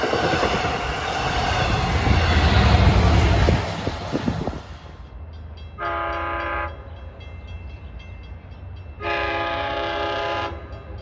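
A loud passing LIRR DM30AC train roars up close at first, then two long, sustained blasts of a tenor-toned K5L chiming horn sound in the quieter stretch afterward.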